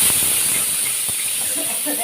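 A pressure cooker cooking chicken gravy vents steam in a loud, steady, close hiss that continues unbroken throughout.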